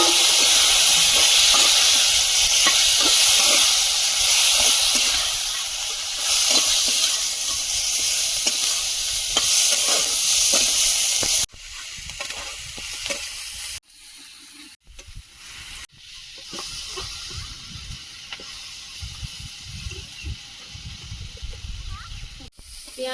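Crab frying with garlic in a pan, a loud steady sizzle that cuts abruptly halfway through, then quieter bursts of sizzling with gaps and stirring clatter.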